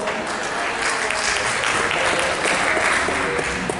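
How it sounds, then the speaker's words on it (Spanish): An audience at an academic folklore conference applauds steadily, dense clapping filling the hall at an even level throughout with no pause. "¡Aplauso!"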